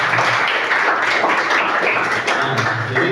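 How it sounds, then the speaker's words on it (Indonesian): A classroom group claps together for a student, steady dense hand claps running for about three seconds without a break, close and fairly loud. "Baik, tepuk tangan buat Zahid."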